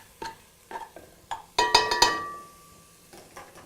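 Turkey meat being sautéed in a pan for turkey chili, with a few soft scrapes and stirs, then a loud burst of metallic clinks from utensil against pan and a ringing tone that fades out.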